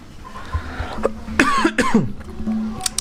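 A couple of short, sharp coughs up close, with faint low background hum before and after.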